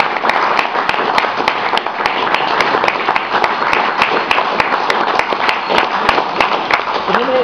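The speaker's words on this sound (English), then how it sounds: "Round of applause." Audience applause at a Morris clowning gathering: a dense, steady wash of many hands clapping for several seconds, loud and continuous, with sharper individual claps standing out through the crowd.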